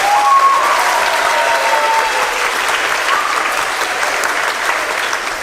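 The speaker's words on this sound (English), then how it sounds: "Can we have a round of applause for all those people?" Sustained, loud audience applause at a middle school choir concert, a thick crowd of clapping hands holding steady for over five seconds with a faint tonal whistle early on.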